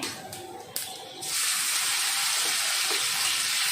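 Mustard seeds and cumin hitting hot oil in a home kitchen pan, a brief quiet clatter and then a sudden loud, steady sizzle that fills the rest of the moment, no voices.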